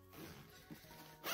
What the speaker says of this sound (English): And then there's another zipper here.